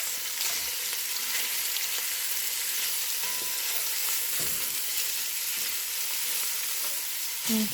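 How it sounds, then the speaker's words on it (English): Zatarain's andouille sausage searing in a pan, a loud, continuous close sizzle with occasional light scrapes and a brief clunk at the end, no one talking. "We're going to get a nice sear on this, on a sausage."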